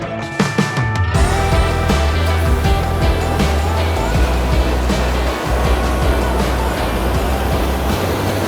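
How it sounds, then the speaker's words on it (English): Ocean waves break on the coastal rocks of a New Zealand surfcasting spot, a loud, continuous roar and wash of surf close by, with a few sharp knocks and splashes at the start. "Or is that just the waves?"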